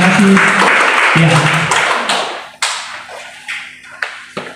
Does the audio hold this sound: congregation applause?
yes